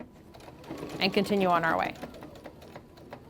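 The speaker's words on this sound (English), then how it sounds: "Put the presser foot down, couple stitches forward, couple stitches back" A sewing machine stitches quilt binding, running forward briefly then reversing, a short mechanical burst heard close up under a person's talking.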